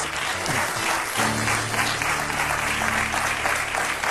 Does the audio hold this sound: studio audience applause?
yes